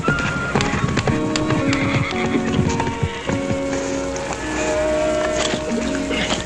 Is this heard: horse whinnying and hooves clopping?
yes